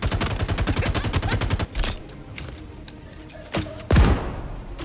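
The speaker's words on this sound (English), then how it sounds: "I used a grenade launcher." In the Star Citizen video game, a rapid stream of gunfire gives way to several deep, booming grenade launcher explosions, the last one the loudest, in a noisy combat scene.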